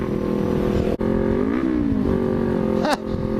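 A motorcycle engine drones steadily up close with a slight rise in pitch, then gives a quick rev near the end, with someone talking over it.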